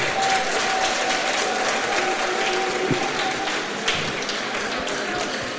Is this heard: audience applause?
yes